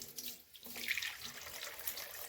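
Cool spring water pours steadily from a spout in the Sainj Valley, a continuous bright splashing stream close by, with no voices.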